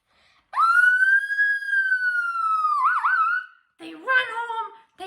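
A voice imitates a police siren in a sound-effects story, one long rising and sustained wail that wobbles and fades, followed by a short, higher warbling burst.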